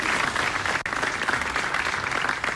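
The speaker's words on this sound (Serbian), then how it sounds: "Molim aplauz za naše mlade Nade." An audience at a Bosnia and Herzegovina sportsperson-of-the-year awards ceremony claps loudly and continuously for young athletes, a dense, sustained ovation with one brief dip near the start.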